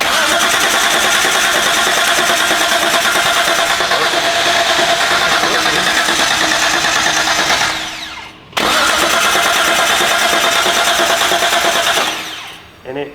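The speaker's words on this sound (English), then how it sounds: "This could be when this car fires." An abandoned Datsun 280z engine cranks continuously with a loud, rapid, droning churn, stops briefly, then cranks again in a second long attempt without catching.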